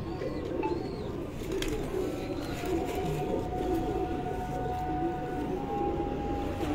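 Pigeons coo on a rooftop loft among fancy breeder birds, soft repeated calls mixed into steady outdoor background noise with a faint low murmur throughout.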